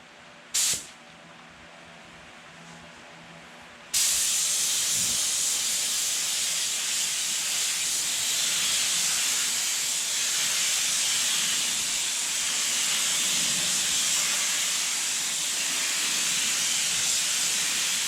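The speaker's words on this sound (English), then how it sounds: "Just basically like spraying some really slow evaporating thinner on your" A spray can lets out a brief puff, then a long, steady, loud hiss of slow-evaporating thinner being sprayed during rust repair on an OBS truck rocker, close by and continuous to the end.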